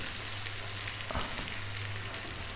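Onions frying in oil over a full flame, a dense continuous sizzle with a low steady hum beneath, close and unbroken, no voices.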